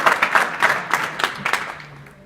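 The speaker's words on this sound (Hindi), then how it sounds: "ताली बजाओ के लिए।" Students clap together in a school classroom, a brief burst of applause with a rhythmic pattern, fairly close, that fades out over about two seconds.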